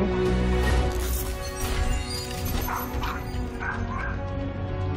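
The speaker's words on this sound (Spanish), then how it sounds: "Cachorro aí." A dog barks and whimpers in a video game, short yips and whines over a dense, continuous background of game music and ambient noise.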